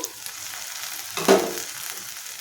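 Cluster beans tipped into a hot pan for a dry prawn dish, giving one brief, sharp burst of frying sizzle in the middle that settles into a quieter hiss.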